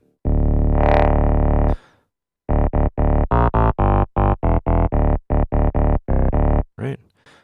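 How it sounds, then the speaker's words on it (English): A gritty, distorted synth sample in Ableton Live's Simpler plays as one long held note, then a rapid series of choppy, buzzing stabs. "Or you can add some distortion to give it more bite."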